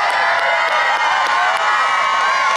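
A large crowd at the 2021 NHIAA Division I state championship game between Bishop Guertin and Exeter roars and cheers loudly and continuously, a dense wall of voices with scattered shouts.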